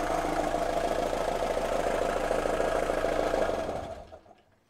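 A boat engine idles with a steady, rough mechanical drone, then winds down and dies away within a second as a stop-solenoid shuts it off, leaving near silence.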